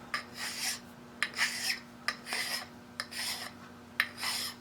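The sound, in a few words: filing and polishing a metal edge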